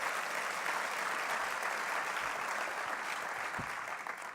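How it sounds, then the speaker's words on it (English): An event audience applauds firefighters, producing dense, continuous clapping that holds steady and then thins slightly at the end, with no voices over it. "Let's give them a big round of applause."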